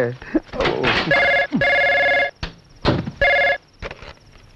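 A telephone bell rings loudly in three or four bursts separated by short gaps, with voices speaking between and over the rings in a comedy film scene.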